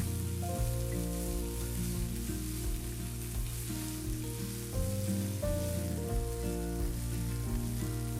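Pounded garlic, shallots and chili stir-fry in hot oil, a steady, continuous close frying hiss over a low droning hum.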